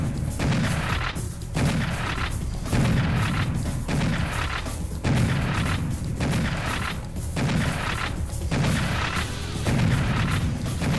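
Gunfire in the video game Serious Sam HD booms out in heavy, regular bursts, loud and close, with short pauses between volleys.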